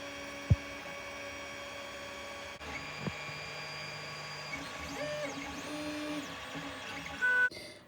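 A 3D printer prints a box lid, its stepper motors whining and sliding through changing tones over a low mains hum, with a short click and a louder burst near the end, and no voices.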